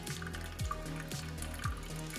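A thin, steady stream of water trickles over coffee grounds in an Espro Bloom brewer, a soft continuous pour heard close and quietly with no talk.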